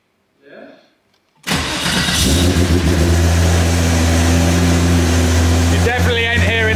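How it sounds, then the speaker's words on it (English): After a brief voice, a Porsche 964 Turbo engine cold-starts with a sudden loud catch, then settles into a rough, steady, close idle. "Let's check this fresh cold start as well."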